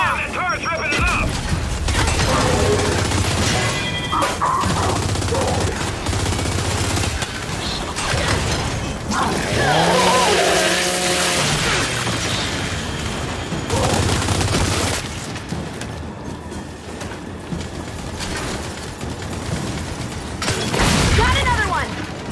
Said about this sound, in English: Come on, that turret's ripping it up!